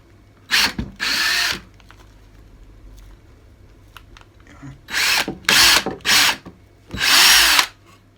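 A power drill drives screws into a wooden wall planter box in short loud bursts, two early and four more later, each a close whirring spin separated by quiet handling noises.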